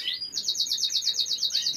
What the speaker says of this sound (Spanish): son pájaros que se pueden escuchar